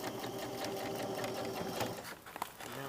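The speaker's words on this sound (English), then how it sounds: "I'm sewing in the stitch, the seam line at the waistband." A sewing machine stitches along a skirt's waistband seam in a fast, steady whirring run at close range, slowing near the end.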